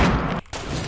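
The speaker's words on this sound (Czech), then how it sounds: "Rakety, granáty." Rockets and grenades exploding in a video game firefight, two loud rumbling blasts split by a brief gap of near silence.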